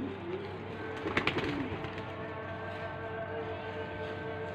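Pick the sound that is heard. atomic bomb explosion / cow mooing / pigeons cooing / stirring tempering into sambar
pigeons cooing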